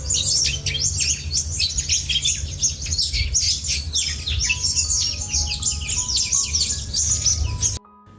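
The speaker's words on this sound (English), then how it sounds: "The baby birds inside cried out in pain." Baby birds in a nest in a tree cry out in a dense, loud chorus of high, rapid chirps and squawks over faint held musical tones, and the sound cuts off abruptly.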